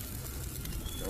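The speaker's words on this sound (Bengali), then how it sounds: "এখন করলা ভাজি বসালাম" Bitter gourd (karela) frying in a pan during rooftop cooking, giving a steady, close, dense sizzle that crackles and hisses without a break.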